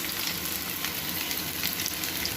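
Onions frying in a pan for biryani, a steady dense sizzle with fine crackling held at an even level throughout, close up, with no voices.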